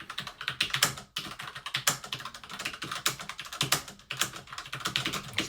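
Fast, steady clatter of keys on an old computer keyboard during a typing speed test, dense irregular clicks running continuously with brief pauses, close and fairly loud.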